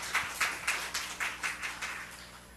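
A church congregation claps for God during a Sunday service, a steady run of about nine distinct hand-clap bursts in a regular rhythm, moderately loud in a reverberant room.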